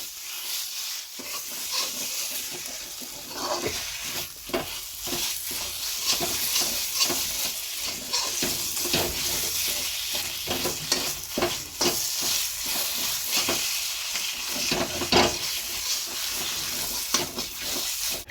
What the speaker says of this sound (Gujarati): હવે આદાને માવાને સરખી રીતે મિક્સ થઈ જાય ત્યાં લગી આપણે શેકી લઈશું